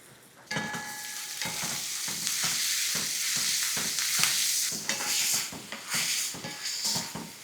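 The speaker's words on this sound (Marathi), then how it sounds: "याला छान आता परतून घेऊ थोडंसं आपण" Poha sautéed with curry leaves, turmeric, salt and sugar: close, rhythmic stirring strokes scrape through the pan over a soft sizzle, repeating steadily.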